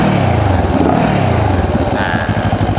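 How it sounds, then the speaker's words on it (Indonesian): Close, loud QJ Motor Tourino 700 SX adventure motorcycle engine, a low throbbing idle that swells into a brief rev and settles back, steady and continuous throughout. "suara dari Torino 700 SX. Nah, ini dia suara idle-nya"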